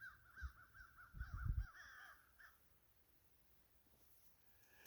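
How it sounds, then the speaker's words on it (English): Crows caw on a clear day outdoors in Oklahoma, several harsh calls overlapping near the start, then the calls thin out and fade into quiet open air with low rumbling in the background. "Oh, all them crows."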